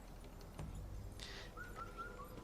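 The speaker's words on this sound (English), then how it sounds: "you should hear a bird chirping" A bird in the game Wuchang: Fallen Feathers gives a few faint, short whistled chirps in quick succession over a low ambient hum, with no voices.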